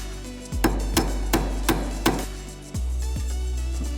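A hammer strikes a bolt to drive it through Honda Civic suspension, five sharp metallic taps about a third of a second apart over a steady low hum. A lower thud follows later.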